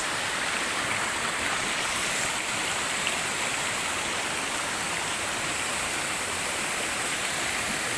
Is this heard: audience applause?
no